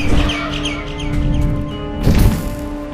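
Bird sounds from the video game Garten of Banban 6: a quick series of chirps and tweets over a busy game soundscape, with a crash-like burst near the end.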